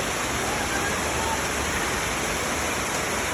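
Heavy rain pours down as a dense, steady roar of broadband hiss, loud and close without a break, with no voice standing out above it.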